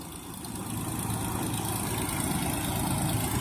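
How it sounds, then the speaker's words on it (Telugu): A steady, droning engine pumping sand from the Tungabhadra River runs continuously nearby, a low mechanical rumble with no talking. "ఏట్లో ఉన్న ఇసుకని గుంజి పాడేస్తుంది మొత్తం ఈ ఇంజన్"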